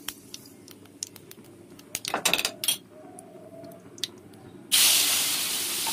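Cumin seeds sizzle in hot oil in a wok, readied for cooking taro stolons (loti): scattered crackles and pops build to a dense burst mid-way, then a steady loud hiss of frying takes over at the end.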